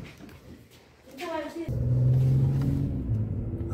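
A car starts up and pulls away, its engine rising from a low idle into a steady, close rumble as it drives off, with people talking over it.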